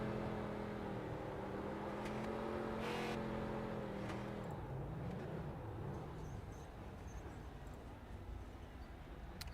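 A street stock race car at New Smyrna Speedway rolls slowly toward victory lane, its engine a low steady rumble that shifts pitch once midway. It sounds distant and fairly faint, with no talk over it.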